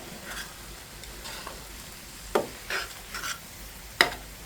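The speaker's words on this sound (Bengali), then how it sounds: "এখন আমি নেড়েচেড়ে খুব সুন্দর করে মিশিয়ে দিচ্ছি।" Greens with onion and garlic fry gently in a pan under a soft steady sizzle, broken by a few sharp clicks and scrapes as a utensil stirs them, quiet and close with no voices.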